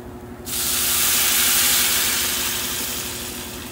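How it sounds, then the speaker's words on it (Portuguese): A sudden loud hiss and sizzle erupts as boiling water hits frying rice in a hot pan, settling into a steady bubbling roar that slowly fades. "vou jogar água fervendo também"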